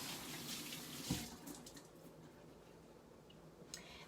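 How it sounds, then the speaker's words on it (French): Running tap water in a kitchen sink while hands are washed, a soft, steady close stream with faint splashing and a brief knock. "je me lave les mains"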